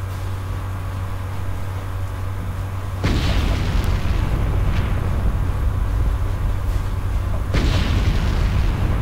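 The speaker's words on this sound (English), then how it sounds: "Explosions." Loud explosions from the video game Star Wars: Knights of the Old Republic, with two sharp booming blasts a few seconds apart over a constant dense rumble of noise.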